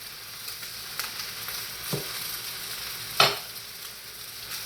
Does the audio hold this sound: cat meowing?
no